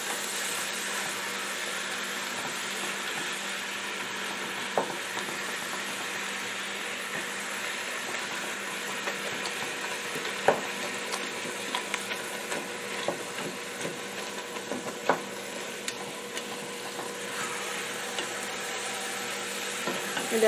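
Meat browns with garlic and onion in a pan for a large batch of chili, giving a steady, close sizzling hiss with scattered clicks and scrapes from stirring, and no talk.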